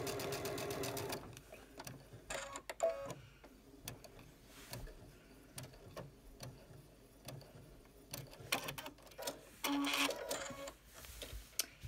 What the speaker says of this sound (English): stitch in the ditch right where the towel and the seam meet up